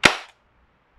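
A single sharp, loud pop from an airsoft gun powered by a gas capsule, close by, with a quick decay and then silence.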